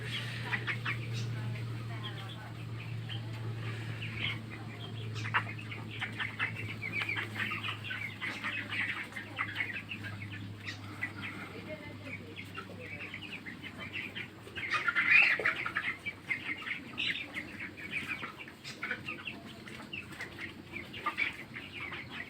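Broiler chickens on a poultry farm cluck and chirp as a busy flock, with scattered wing flaps over a low steady hum, fairly faint and with a voice now and then.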